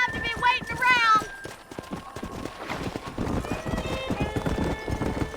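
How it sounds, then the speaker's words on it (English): Horse hooves clip-clopping in Red Dead Redemption, with whinnies and neighs early on and a steady run of hoofbeats beneath game dialogue and music throughout. "Передвижение по лошадям."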